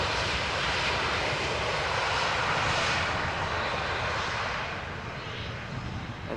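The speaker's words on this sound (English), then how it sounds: "This was SunExpress arriving from Konya" A SunExpress airliner in Eintracht special livery, arriving from Konya at Amsterdam Schiphol airport, roars with a broad engine rumble that eases slightly near the end. No one speaks.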